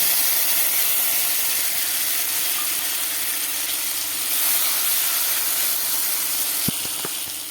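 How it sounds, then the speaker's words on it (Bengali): Whole spices crackle and sizzle in hot oil in a kadai, tempering for a Bengali fish dish: a continuous bright hiss, fairly close and even, with a couple of sharp pops near the end. "এখন একটু ফোড়ন দিয়ে দিলাম মাছের জন্য"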